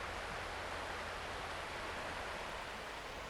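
River water rushing steadily past an inside bend where gold prospectors have a sluice box set up, a constant broadband wash with no pauses and no voices.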